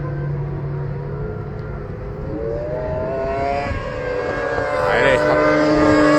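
Racing sidecar engines at an FSBK round in Alès build from a distant drone to a louder, rising whine as the lead machines approach, heard under continuous French commentary.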